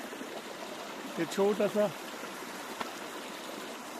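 River water streams steadily past a small handmade dam in the middle of a village river, a continuous soft wash under a voice speaking briefly.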